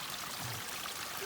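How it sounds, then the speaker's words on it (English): Spring water flowing out of a forested hillside in Olympic National Park, a steady close hiss of running water with no pauses or voices. "just multiple streams coming up, springs coming out this hillside"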